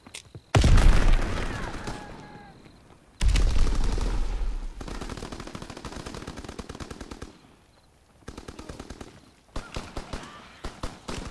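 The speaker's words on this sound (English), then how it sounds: "Throwing sticky bomb!" Video game firefight with a sticky bomb: loud bursts of rapid automatic gunfire and sharp shots in several volleys, with short pauses between, close and harsh.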